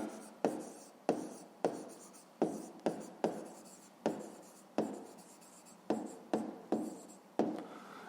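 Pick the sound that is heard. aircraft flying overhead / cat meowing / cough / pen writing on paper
pen writing on paper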